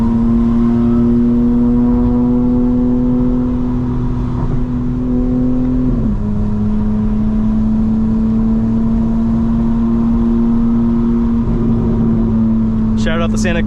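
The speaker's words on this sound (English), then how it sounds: "This car makes the right amount of noise and it goes exactly where I want it to." A 2025 BMW M4 Competition xDrive engine droning steadily while driving, loud and close from the cabin, with one gear change partway and a brief click near the end.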